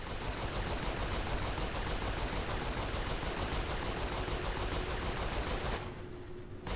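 Sustained rapid turret fire in Saints Row 4 while defending a ship from pursuers, a continuous dense chatter of shots held loud and steady for several seconds before cutting off abruptly.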